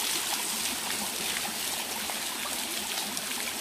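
Hot spring water flowing out in a steady, broad rushing and trickling wash that stays constant and near, with no speech.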